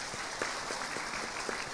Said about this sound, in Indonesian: Tepuk tangan untuk Mbah Pur